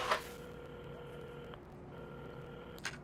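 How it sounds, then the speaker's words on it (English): A telephone number is dialed in the video game Assemble With Care, heard as faint, quiet electronic phone tones with a soft click at the start and another near the end. "at the counter, Carmen had started dialing the phone"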